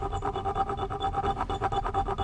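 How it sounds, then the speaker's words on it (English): Hand file rasping back and forth on a metal rear glass molding clip held in vise grips on a 1973 Ford Mustang coupe, producing rapid, even scraping strokes up close with no talk. "hold it with a vice grip, and then I file it right in here"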